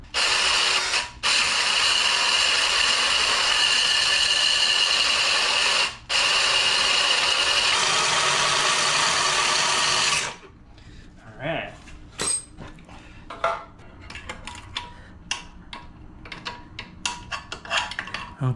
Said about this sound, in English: I'll just take my little cutoff wheel and cut this off